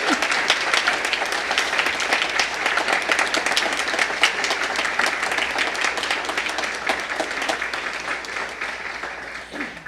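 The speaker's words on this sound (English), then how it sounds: "and I'd like for you to applaud." Sustained, loud applause from a large crowd fills the whole stretch, dense clapping with a few cheers and voices mixed in.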